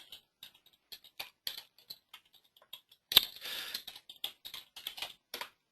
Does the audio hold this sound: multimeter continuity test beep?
no